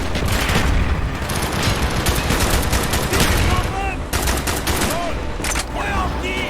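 Dense, continuous gunfire from the Call of Duty Black Ops video game, with overlapping rifle and machine-gun bursts and booms filling the whole stretch, loud and close, with shouted voices mixed into the battle.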